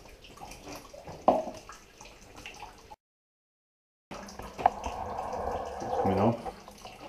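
Sparge water runs off through the grain bed of an all-grain homebrew mash, a steady trickling flow with talk and handling noises over it, a short gap of silence partway, then the running liquid swelling louder.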